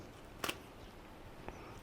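Scissors snip through the elastic cuff edge of a rubber glove being prepared for grapevine grafting: two short, crisp cuts, the first louder, against a quiet room.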